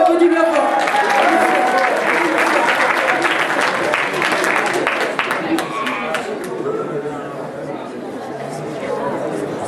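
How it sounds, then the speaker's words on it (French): Audience at an improvised comedy sketch show applauds as a performer comes on stage, dense sustained clapping with crowd chatter mixed in, fading slightly toward the end. "On l'applaudit bien fort."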